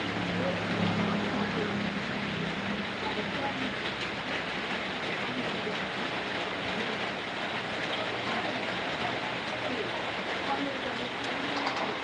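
A steady, dense hiss of rain fills the whole clip at an even loudness, with a low rumbling hum underneath.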